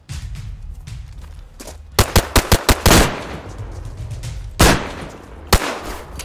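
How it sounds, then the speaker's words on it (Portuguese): Gunfire in the video game DayZ: a quick burst of five sharp shots, then a few louder isolated cracks spaced over several seconds, with no one speaking over them. "Eu tinha ouvido os tiros"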